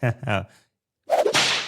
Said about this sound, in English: I'll give you a lot of whips.